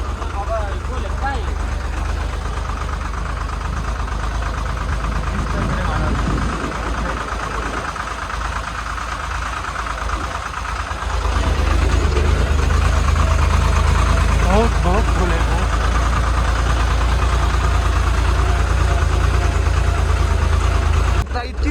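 A tractor engine running during a trip from Nashik to Spiti, a loud steady low drone that swells louder halfway through, with people talking over it.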